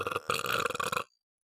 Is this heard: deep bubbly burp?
yes